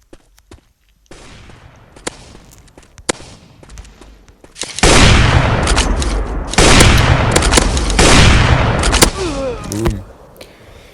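Sniper rifle fire from the MaskGun mobile shooter game: sharp separate shots early on, then a loud sustained burst of booming gunfire and explosions in the middle, fading toward the end.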